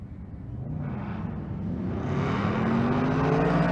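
Drag racing cars at Pueblo Motorsports Park roar and rise in pitch as the engines build and launch, a loud, continuous accelerating drone with no voices.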